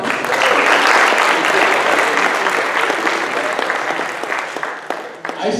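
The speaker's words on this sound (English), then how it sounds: "if you like this activity, give a round of applause" Loud, dense audience applause at a real-estate association gathering, sustained throughout and tapering slightly toward the end.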